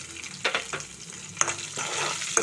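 Crushed garlic cloves frying in hot oil for an amaranth leaf fry, a brief soft sizzle with a few crackling pops and light clicks, close and quiet, no speech.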